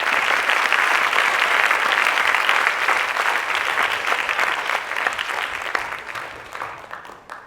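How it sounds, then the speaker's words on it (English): Sustained applause from an audience at a Year 6 school graduation ceremony, steady and full for several seconds before gradually thinning out toward the end. "Give them a round of applause"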